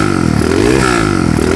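A smoky Honda GL100 motorcycle engine revs up loud and close, its buzzing single-cylinder note rising in pitch and then easing back over a steady idle rattle.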